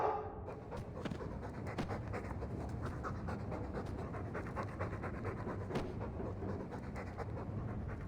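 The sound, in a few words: dog panting in video game Dragon Age II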